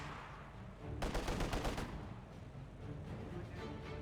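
Rapid gunfire in Company of Heroes 2 aimed at Panzer Grenadiers, a dense burst of overlapping shots rattling for about a second amid ongoing battle noise, fairly distant and quiet.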